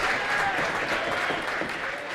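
Crowd at a high school basketball game between the Fraser Ramblers and L'Anse Creuse Lancers claps hands loudly, a dense continuous burst of applause.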